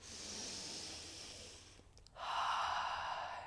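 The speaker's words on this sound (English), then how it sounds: "I invite you to take one big intentional breath with me" A single long, deliberate breath: a steady airy inhale, a short pause, then a stronger, fuller exhale, close to the microphone with no talking.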